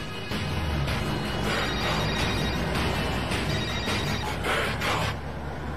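A telephone rings steadily in repeated electronic pulses, loud and close, over a dense background wash.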